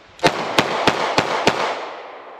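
A Yugoslavian surplus Zastava M88 9mm Tokarev pistol fires five sharp, evenly spaced shots in quick succession at close range, each report ringing out briefly before the next, with the echo fading afterward.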